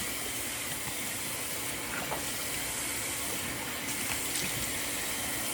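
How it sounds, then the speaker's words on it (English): Running tap water splashes steadily while someone washes their face at a sink, a constant, fairly quiet hissing flow with faint splashes and no voices. "So you're gonna apply the water to your face."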